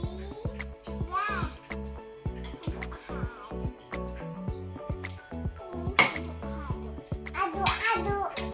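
A spoon stirs juice in a glass, giving repeated light clinks under someone speaking throughout, with steady rhythmic background music.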